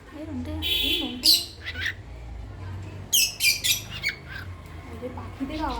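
Squawking bird calls with sharp chirps break out in short bursts, several in the first second and a cluster near the middle, close and fairly loud above a low background hum, alternating with quieter gaps.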